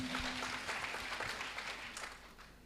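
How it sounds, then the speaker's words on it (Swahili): Worshippers at an all-night crossover church service applaud, a moderate, steady wash of many hands clapping together, even and sustained without any talking over it. "Makofi."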